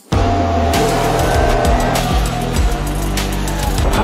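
Formula 1 race cars at the Shanghai circuit roar past loud and near, a continuous high engine wail with gear-shift steps in pitch, and a faint tire squeal over a steady crowd-and-track background, no talk.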